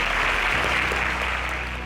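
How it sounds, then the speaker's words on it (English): Studio audience applauding contestants on a televised quiz show, a steady, even wash of clapping that holds at one level throughout. "A round of applause to them."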